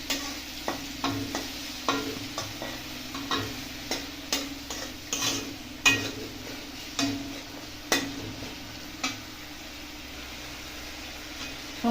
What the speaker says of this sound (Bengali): এবার সমস্ত জিনিসটা ভালো করে আমি এখানে ভেজে নেব।